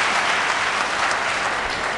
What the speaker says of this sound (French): On applaudit très fort ce geste.